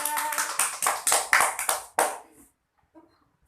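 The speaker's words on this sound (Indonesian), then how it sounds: "Beri tepuk tangan untuk Tika yang sudah menjelaskan." A high school biology class claps for a classmate, a quick run of sharp, rhythmic hand claps from a small group for about two seconds that stops abruptly, followed by near silence and a faint voice.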